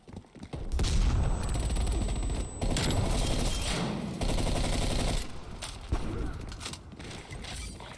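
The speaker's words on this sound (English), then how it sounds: "Throwing frag." Video game combat with a frag grenade blast among dense bursts of close gunfire, loud sharp cracks and a heavy boom with debris-like clatter, brief pauses between volleys.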